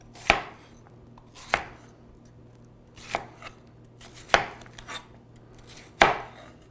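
Five spaced knife chops cut through green pepper on a cutting board, each a distinct, close knock about a second apart, over a faint steady background hum.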